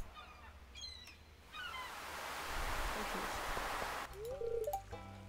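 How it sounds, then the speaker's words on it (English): Ocean waves from the Stardew Valley video game wash in as a broad surf swell lasting a few seconds, framed by game bird chirps and a brief synthetic tone at the start and end. "These waves, I can hear them in my soul."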